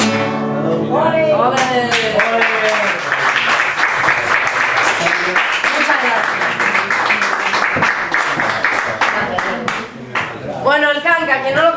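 Clapping breaks out at a live music performance at a venue in A Coruña. Steady applause runs under loud voices and cheering, with someone saying a few words of thanks near the end.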